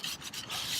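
A rag rubs brake fluid off brake parts for a 1969 VW Westy, a quick soft scrubbing swish, faint and close, with no voices.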